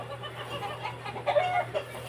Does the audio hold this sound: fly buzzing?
no